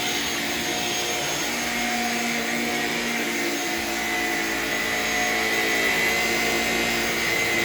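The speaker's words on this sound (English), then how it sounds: "let's go ahead and vacuum the bedroom with this thing" A Shark Rocket self-cleaning vacuum cleaner runs steadily indoors in a bedroom, a loud continuous motor whine with airflow hiss, slightly shifting in pitch as it moves over the floor.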